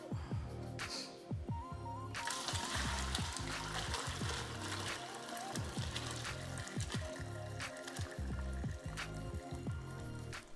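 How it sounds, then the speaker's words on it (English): Bread slices dipped into strained bone broth for Turkish islama köfte, with soft wet squishing and dripping, close and quiet, under a steady run of kitchen liquid sounds. "Strain the bone broth and quickly dip the bread slices into it"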